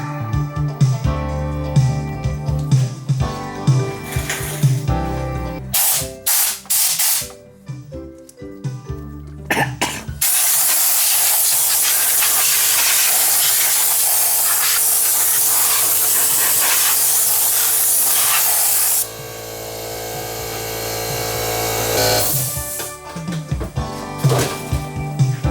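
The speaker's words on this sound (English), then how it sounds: "Maybe we'll get the air compressor and blow this dust out of here." An air compressor nozzle blasts dust out of a Technics SA-GX550 stereo amplifier, with loud, sustained hissing bursts of air between short knocks and handling clatter, close to the microphone.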